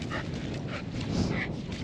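A dog gives short, repeated yaps during a group dog-training class, the sharp calls rising over a steady background of room noise across the brief span.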